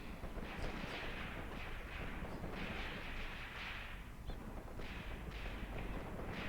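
Gunfire from dug-in Russian positions on a reverse slope in Graviteam Tactics, Kharkov 1941: a loud, steady barrage of overlapping booming shots and rumbling blasts rolling without pause.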